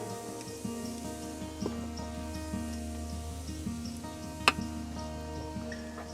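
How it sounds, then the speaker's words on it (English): Chops sizzle quietly in a hot pan, a soft, steady crackle with scattered small pops and one sharper snap, heard alone at low volume. "Sizzling."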